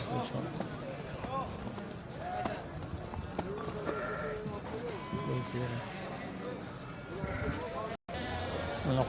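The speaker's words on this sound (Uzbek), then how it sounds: "Mana qo'rlarda qo'ylar bor hali." Sheep bleat repeatedly at a busy livestock market in Kazakhstan-sourced sheep pens, with overlapping calls amid a loud crowd of people talking nearby and steady market bustle throughout.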